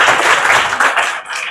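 Loud applause from an audience at a quiz event bursts out close and dense, a continuous wash of many hands clapping that tapers slightly at the end.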